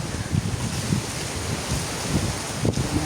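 Strong gusting wind sweeps through coconut palms outdoors, a loud continuous rush with low buffeting bursts against the microphone and no voices.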